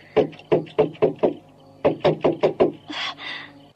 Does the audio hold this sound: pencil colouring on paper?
no